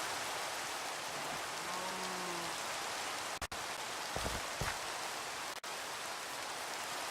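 Steady rain in Minecraft falls continuously as a soft, even hiss throughout, with a few brief game tones and clicks rising over it partway through.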